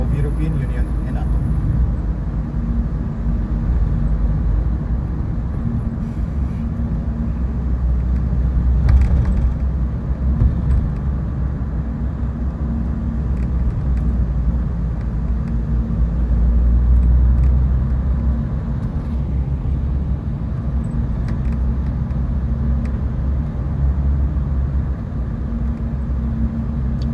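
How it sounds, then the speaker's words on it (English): Buses and city traffic rumble past continuously in Dubrovnik, a steady low engine drone with passing swells, while people talk throughout. "Lots of buses, aren't there?"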